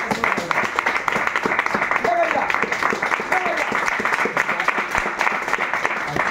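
Audience applause fills a seminar hall, a dense, sustained wash of many hands clapping at close range for several seconds, with a few raised voices mixed in.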